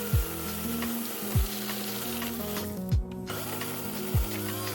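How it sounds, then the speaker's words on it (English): A chainsaw cuts invasive trees during forest clearing in the Southeast. Its engine drones steadily and loudly, with a short sharp rev dip about every second and a half, and no voices. "I've used the chainsaw a couple of times and it's made life a total breeze."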